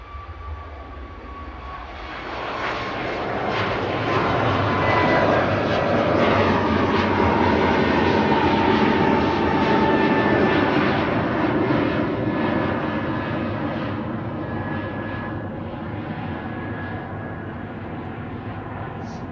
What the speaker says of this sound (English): Max 8 departing now to Palma de Mallorca with flight 3445 for Ryanair